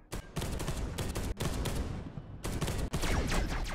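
Rapid bursts of gunfire from the Spear of Caliban weapon in the Space Hulk: Deathwing video game, loud and continuous with brief gaps between volleys, heard alone.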